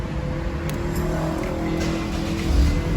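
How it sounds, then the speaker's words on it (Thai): A Honda Accord (8th generation) engine catches after a push-button start and settles into a steady low idle, with a slight surge near the end. "เครื่องยนต์ก็สตาร์ทติดนะครับ"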